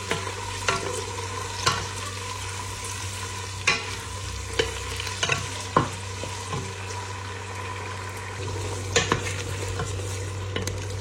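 Shrimp sautéing in a pan with potato, tomato and spices, giving a steady sizzle under scattered scrapes and knocks of a stirring utensil against the pan, with no talk.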